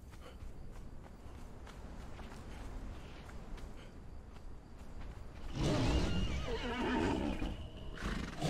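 A horse follows the player in the video game Conan Exiles. Soft hoof steps plod under a windy, noisy background, then a louder burst of movement and whinnying rises near the end.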